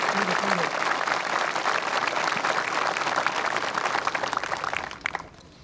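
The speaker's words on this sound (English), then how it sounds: "We can give a little round of applause for our teachers" Applause from a crowd at a 2021 high school commencement honoring the teachers, steady dense clapping for about five seconds before it fades, with some voices murmuring underneath.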